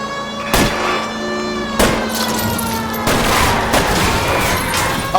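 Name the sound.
gunfire in the video game L.A. Noire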